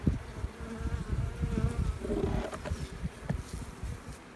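Honey bees buzz in a dense, close drone over an open hive with a small nest, many wings humming together with individual bees rising and passing nearby, in cool windy weather.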